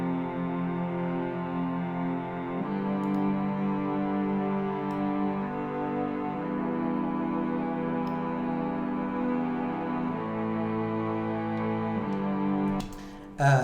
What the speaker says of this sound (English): It's a bunch of violins and it's called strings.